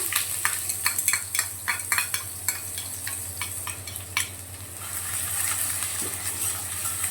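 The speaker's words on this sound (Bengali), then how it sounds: "পেঁয়াজটা একটু গোল্ডেন ব্রাউন করে ভেজে নিতে হবে" Onions fry in a pan as the base for shapla chochchori, a steady sizzle underneath sharp metallic clinks and scrapes of a spatula stirring, close and moderately quiet with no talking.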